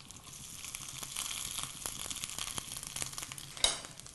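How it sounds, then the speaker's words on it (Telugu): Peppercorns, dried red chilli pieces and grated coconut fry in a pan, giving a steady, close sizzle with faint stirring scrapes throughout. "బ్రౌన్ కలర్ వచ్చేంత వరకు మనం దీన్ని ఫ్రై చేసుకోవాలి"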